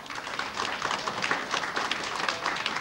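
A concert audience gives dense, continuous applause for an orchestra at a festive evening of Macedonian songs. The crowd claps evenly and fairly loudly throughout, with no voices over it.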